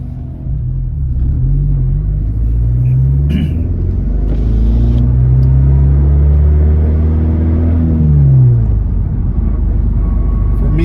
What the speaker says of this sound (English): I like the intake noise.